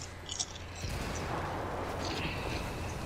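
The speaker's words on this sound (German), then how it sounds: "wie oft explodieren die denn noch nach?" Faint thumps early on give way to a sustained, rumbling wash of blasts and debris from explosions in the video game Ghost Recon Wildlands, dense and continuous, with no voices.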